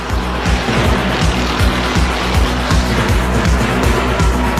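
NASCAR stock cars race around an oval track, their engines roaring loudly and continuously as they pass close by in a dense, unbroken drone.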